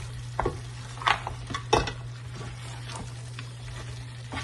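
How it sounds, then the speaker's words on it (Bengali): Beef karahi sizzles in a pan while being stirred, giving a soft frying hiss with a few clearer scraping clinks, quiet and fairly close, alongside a steady low hum and no talk. "আবার একটু ভাজা ভাজা করার চেষ্টা করব।"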